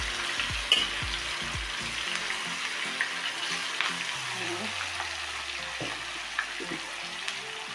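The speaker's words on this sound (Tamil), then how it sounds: "நல்லா மீன் துண்டுங்களை இந்த மாதிரி எண்ணெயில் போட்டு பொரிச்சு எடுக்கணும்." Sheela fish pieces deep-frying in hot oil with curry leaves, a steady close bubbling hiss with a few soft low knocks near the start.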